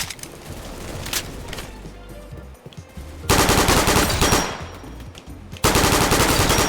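Rapid automatic gunfire from a video game weapon rattles in long bursts, pausing briefly between strings of shots, then returning louder and denser for sustained sprays.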